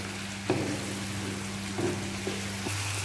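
Three chopped tomatoes sizzle in hot oil with fried onion, ginger and garlic for dhaba-style egg masala, a continuous close crackle broken by a few light stirring knocks, no talking.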